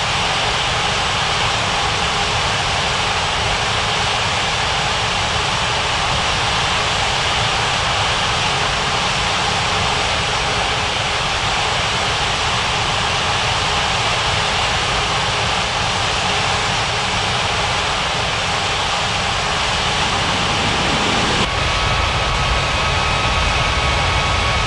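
Steady, loud roar of airliner jet engines at an airport in an air traffic control game, a continuous broadband drone that shifts slightly near the end as aircraft taxi and land.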